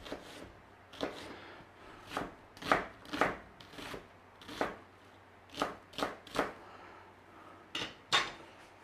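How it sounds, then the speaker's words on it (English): A knife dicing an onion on a cutting board, a dozen or so crisp chopping taps coming in uneven bursts and single strokes with brief gaps between, close and fairly quiet, no talking. "Now dice it whichever way you want. You know, let's not get stressed over dicing an onion."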